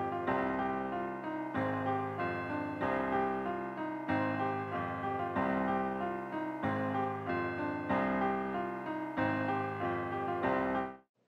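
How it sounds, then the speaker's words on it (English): An old school trap bell melody loops through a Detroit-style type beat, ringing bright tonal notes in a repeating phrase of about a second and a half, played alone and cutting off abruptly at the end. "Coming with some bells, gotta have these old school type bells"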